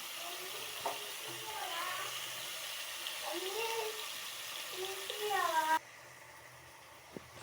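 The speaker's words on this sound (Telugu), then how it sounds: "మంచి ఫ్రై అవుతుంది ఆయిల్లో, మంచిగా ఉడకనివ్వాలి, మంచి ఫ్రై అవ్వనివ్వాలి." Chicken frying in oil with ginger and garlic, a soft continuous sizzle under a voice talking, ending in a sudden drop to a quieter hiss with a faint knock.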